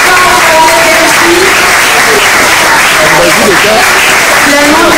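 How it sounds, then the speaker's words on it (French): Loud, sustained applause from a crowd at an award ceremony where medals and trophies are handed out, dense clapping running steadily throughout with voices and cheers mixed in. "On applaudit très fort."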